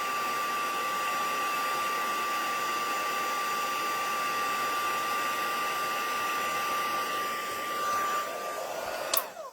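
A heat tool blows steadily while melting embossing powder, a loud, even whooshing drone with a faint high whine, ending in a brief click as it switches off.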